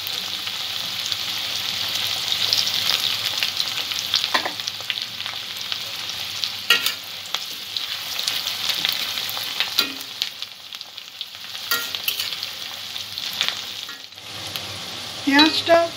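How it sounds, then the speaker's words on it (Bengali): Chopped onions frying in oil in a pan, a steady close sizzle with occasional stirring scrapes and clinks running throughout. "পেঁয়াজটা একটু নরম হওয়া পর্যন্ত ভেজে নেব।"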